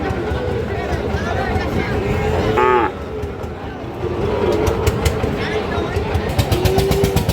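A Sahiwal bull calf gives a couple of drawn-out moos at a busy cattle market, heard against steady crowd noise and nearby talk.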